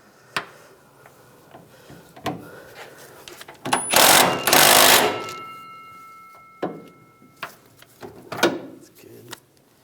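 Metallic clicks and ratcheting from a wrench on a bolt at the rear shock of a 2011-2018 Ram 1500 pickup, with scattered clanks and a loud burst of noise in the middle, close up and without speech.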